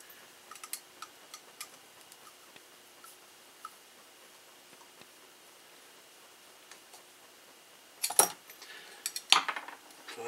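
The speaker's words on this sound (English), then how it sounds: "So I'm just going to run this down. And put our nylock nut on." A nylock nut being threaded onto a bolt while building a TLR 8ight-E 3.0 RC car: quiet, scattered close-up ticks and small metallic clicks, ending in a couple of louder clinking clatters, with no talking.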